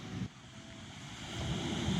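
Low ocean waves wash onto a beach in a steady surf roar with wind noise, swelling slightly louder toward the end, with no voices.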